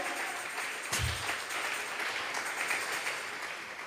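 Church congregation clapping together during a Bible study service, a continuous faint wash of applause with one sharper thump near the start.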